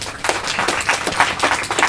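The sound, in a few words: audience applause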